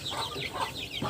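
Chicks of widely different ages, around fifteen days apart, cheep and cluck together in a brief, close burst of high chirping calls.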